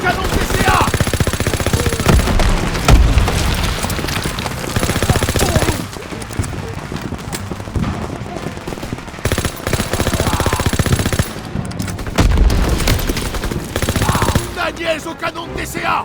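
Machine-gun suppressing fire in the Call of Duty WWII campaign, sustained loud bursts of automatic fire mixed with explosions and battle noise, with shouted voices over the din.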